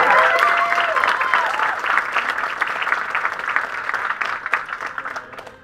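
An audience applauds steadily for a women's figure open class at a bodybuilding show, a dense wash of clapping that swells loud at first and slowly thins, with faint voices mixed in.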